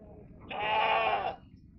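A single goat bleat at a goat market, one clear, fairly close cry of about a second over low background murmur.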